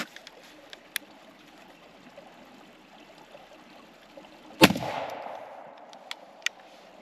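One loud, close blast from a 3-inch .410 turkey shotgun cracks across a quiet outdoor field, then rolls away into a fading echo, with a few faint clicks before and after.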